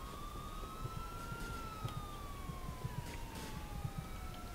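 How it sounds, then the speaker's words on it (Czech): An ambulance siren wails in the video game GTA IV, with long rising and falling tones sustained across the whole stretch over a steady street background with light thumps and no talking. "Ty policajti. Spíš ta sanitka tady."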